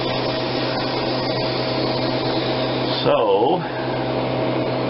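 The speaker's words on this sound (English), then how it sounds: "turn off the vacuum pump" The vacuum pump of a Harvest Right freeze dryer runs with a constant loud hum and hiss, then a brief warbling change as it is switched off, and a voice speaks a word over it.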